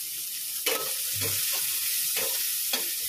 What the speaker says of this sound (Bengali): এখন করছি হচ্ছে উচ্ছে ভাজা।